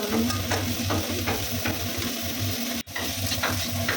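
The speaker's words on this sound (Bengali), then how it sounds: "আমরা গাজর পেঁয়াজগুলো ভালো করে ভাজছি" Carrots and onions frying in a pan while being stirred, a steady close sizzle with repeated scraping strokes, a brief dropout midway, and no talking.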